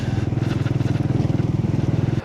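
A motorcycle travels along a rain-soaked road on a cold winter ride, its engine thumping in a rapid, even pulse close by for about two seconds before it drops away.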